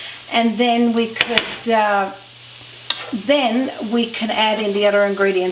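Food, including garlic, sizzles and fries in a pan beneath a person talking close by, with a few sharp utensil clicks.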